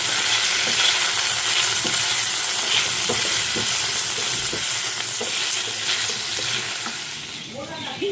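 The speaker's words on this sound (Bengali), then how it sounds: "একটা পেঁয়াজের হাফ পেঁয়াজ নিয়েছি, ঘিয়ের মধ্যেই আমি ফ্রাই করে নিলাম" Half an onion frying in ghee in a home kitchen pan, a steady loud sizzle with occasional stirring scrapes running throughout, easing slightly near the end.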